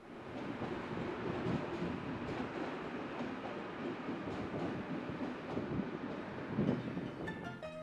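An Auckland AM class electric train, unit 661, running the Britomart to Swanson service, rumbles past steadily and loudly with continuous wheel and track noise, a faint high tone emerging near the end.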